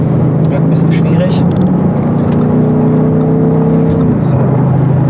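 An Audi RS7 C8 accelerating hard on an open road, its steady engine drone rising in pitch before easing off near the end, heard from inside the car with a voice talking over it.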